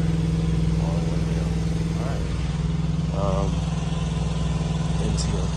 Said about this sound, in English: Yamaha R1M 2023 carbon fiber R1M